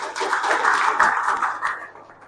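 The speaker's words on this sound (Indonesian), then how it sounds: "Tepuk tangan buat Cindy." A classroom of students applauds a classmate, a dense, steady burst of many hands clapping together that fades toward the end.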